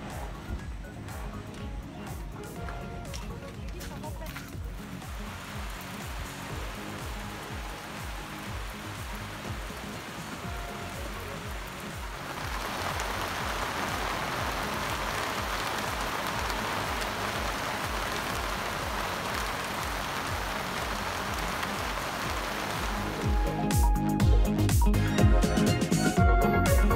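Steady rain falling at a campsite in Cameron Highlands, a dense continuous hiss of drops on surfaces that grows heavier and louder partway through and again near the end.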